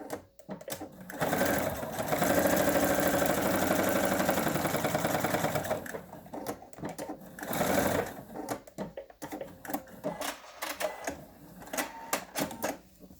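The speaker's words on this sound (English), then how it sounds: "we are going to stitch both sides, making sure you back stitch at both ends for these seams" A sewing machine stitches a half-inch seam in fabric for a lap pad, running in steady bursts of motor whir with short pauses and stop-start back stitching, close and fairly loud.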